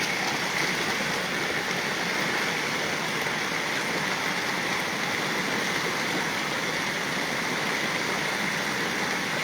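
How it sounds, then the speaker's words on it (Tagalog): Heavy rain pours down steadily outdoors during cast net fishing, making a dense, continuous hiss that stays loud throughout with no voices. "Lakas na ng ulan."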